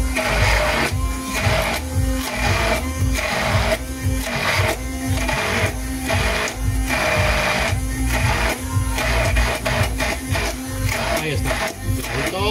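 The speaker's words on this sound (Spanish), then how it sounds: "Vamos a picarlo bien con la batidora." A hand blender chops beef Wellington filling in a home kitchen, loud motor whirring steadily with rhythmic pulses of chopping across the whole stretch.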